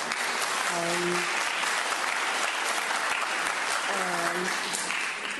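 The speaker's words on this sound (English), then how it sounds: "I would just ask that you respect the chambers and try and hold back your applause." Steady applause fills city council chambers during a public hearing for several seconds while a voice speaks briefly over the clapping.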